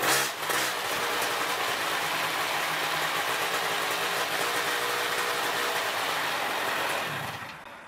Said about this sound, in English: The engine idles about 2800 RPM and quits when the throttle is